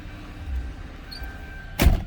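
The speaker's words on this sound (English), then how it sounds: "Get rid of that door chime." Door chime in a 2004 Lincoln Town Car Ultimate sedan, a faint steady electronic tone running inside a quiet cabin before being cut off by a short, loud thump.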